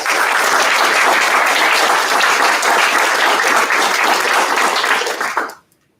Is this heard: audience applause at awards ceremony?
yes